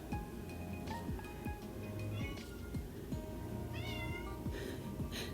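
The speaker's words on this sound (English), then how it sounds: "My cat is coming and she is yelling" A pet cat meows and yowls repeatedly at a faint level over a steady background hum, with a handful of drawn-out, rising cries spread across the stretch.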